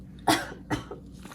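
Two or three harsh coughs close by, the first loudest, with short pauses between them.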